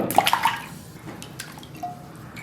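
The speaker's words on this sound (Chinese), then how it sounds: "牛蹄子多洗几遍" Beef hooves being rinsed under running water, with a short splash and bright drips at the start, then quieter trickling and a few faint knocks.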